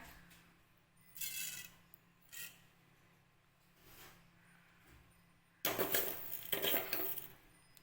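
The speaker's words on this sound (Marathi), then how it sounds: "तर मी इथे दोन चमचे मेथ्या टाकलेले आहेत आणि तेल आता चांगलं गरम झालेलं आहे" Fenugreek seeds go into hot oil in a pan. A few quiet, short rattling patters are followed by a louder burst of crackling and clinking near the end.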